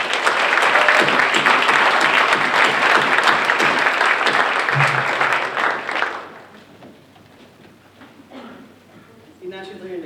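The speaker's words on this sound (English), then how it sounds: "Please join me in a warm round of applause for Autumn" An audience at an academic recognition ceremony gives loud, sustained applause for about six seconds, then it fades and a speaker's voice follows.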